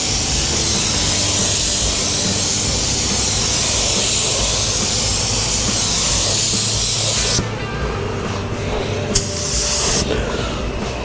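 A paint spray gun run at low air pressure in a workshop gives a loud, continuous hiss, cutting out briefly twice toward the end before resuming.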